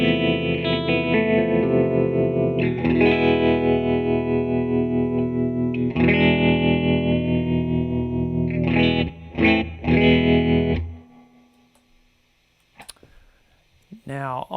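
A guitar fed through an EarthQuaker Devices effects pedal set to a 61 harmonic trim setting, sustained distorted chords ringing loudly for about ten seconds with a few choppy stabs, then dropping to near silence with faint clicks at the end.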